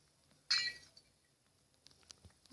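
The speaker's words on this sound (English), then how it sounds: "That was glass." Glass shatters once in a video game, with a sharp, bright crash followed by a short tinkling tail and faint scattered clicks.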